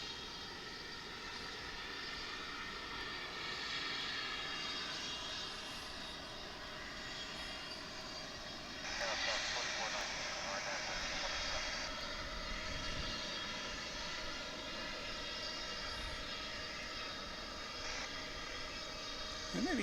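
A fixed-wing airliner on approach to land at Dallas Fort Worth airport, heard from an outdoor viewing area; a sustained distant engine roar that swells somewhat midway and holds, faint and continuous.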